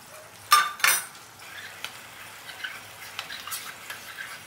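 A spoon clinks sharply against a bowl twice while cornflour is stirred into water, and lighter scraping taps follow steadily, close and alone.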